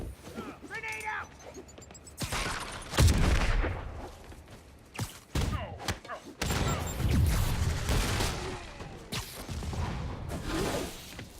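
Gunfire bursts and a grenade blast in the video game Marvel's Spider-Man: Turf Wars, mixed with whooshes, mechanical clanks and crashes, loud and busy throughout, with game voices talking over the action.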